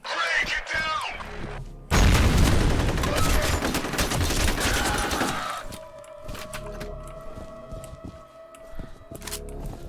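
In F.E.A.R. Extraction Point, a grenade blast sets off a sudden loud burst of rapid gunfire that lasts several seconds, then fades to quieter ambience, with a voice shouting briefly at the start.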